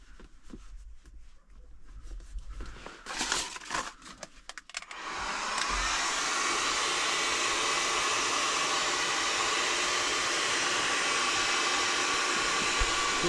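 Heat gun warming sound-deadening insulation inside an MTZ 892 tractor cab, starting after some handling and clatter and then blowing as a loud steady roar up close for the rest of the clip.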